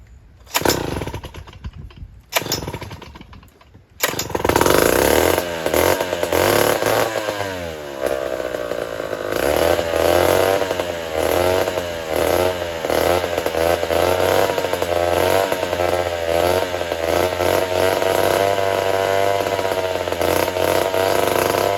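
A chainsaw being started: a few sharp pull-cord attempts, then the engine catches and runs loud and close, revving and settling into a steady, buzzing idle.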